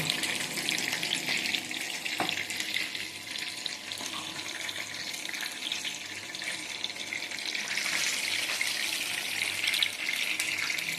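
Chicken pieces deep-frying in hot oil for a restaurant-style chicken fry, a dense continuous bubbling hiss with a few faint clicks of utensils, close and steady, with no voices.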